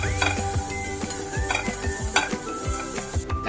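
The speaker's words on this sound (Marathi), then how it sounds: "आता त्याच्यात कांदो आणि हे बारीक कापलेलो कढीपत्तो आता असं वलपवून घ्यायचं थोडस।" Onion and finely chopped curry leaves stirred around a hot kadai for kanda poha, with repeated scraping and clinking strokes of a spoon against the pan over a low background hum, close and steady with no talking.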